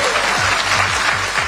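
An audience applauds after a political speech with a loud, dense wash of clapping that fills the whole moment, steady and unbroken with no voices on top.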